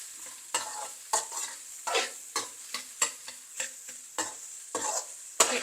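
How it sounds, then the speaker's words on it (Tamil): Egg fried rice stirred in a hot pan: quick, repeated scraping strokes over a steady sizzle, a dozen or so close, fairly even stirs with no voices. "இந்த ரைஸை நல்லா மிக்ஸ் பண்ணுவோம்."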